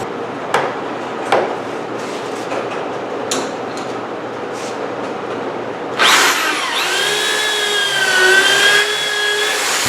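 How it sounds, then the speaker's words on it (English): A power drill bores pocket holes in wood for a boat seat brace: a few sharp taps and knocks first, then a loud, steady motor whine that runs through the second half with no talk. "I also intend to put a few pocket holes along the inside here. Let me do the pocket holes next."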